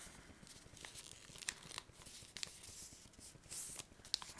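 Paper being folded and creased into a paper airplane, producing soft crinkles and brief sharp crackles as the sheet is pressed flat, close up and quiet with no speech.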